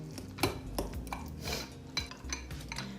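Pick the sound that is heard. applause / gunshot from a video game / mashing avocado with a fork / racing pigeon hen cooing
mashing avocado with a fork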